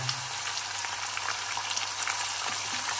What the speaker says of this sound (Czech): No a teď zase ho opeču, aby ztratilo takovou tu svoji syrovost